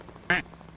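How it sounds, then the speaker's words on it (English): A single short duck quack cuts in abruptly over a quiet background during a competitive team match, close and clear, lasting only a fraction of a second. "Quack indeed."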